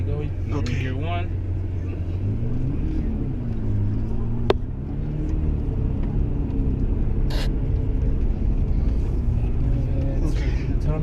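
A Lamborghini Murcielago engine pulls away in first gear, a steady low rumble with a rising tone as the car moves off. People talk over it.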